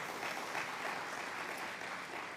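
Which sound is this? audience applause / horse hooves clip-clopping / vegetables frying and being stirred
audience applause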